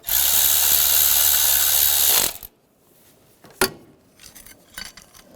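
A tool tightens down the bolts on an intake manifold bracket of a 2006-2009 Mercedes-Benz E350 3.5L V6: a loud steady whirring burst stops abruptly, followed by a sharp metallic clack and a few light rattling clicks.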